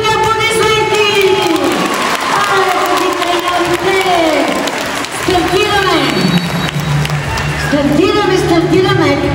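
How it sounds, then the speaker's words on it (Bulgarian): An audience at a dolphin show claps and cheers loudly and continuously, with shouting children and excited voices mixed into the roar of the crowd. "Децата и силните аплодисменти!"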